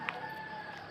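A rooster crows once in the countryside of San Antonio, Ilagan, Isabela, a brief distant call over steady rural background noise.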